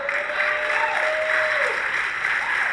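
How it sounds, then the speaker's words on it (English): An audience claps continuously, a dense and even wash of applause that stays loud throughout, with a faint thin tone drifting beneath it. "Why are you clapping for this ignorant mess right here?"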